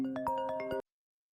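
A phone's ringtone plays as a short melodic run of bright tones, close and clear, then cuts off abruptly after under a second, leaving silence.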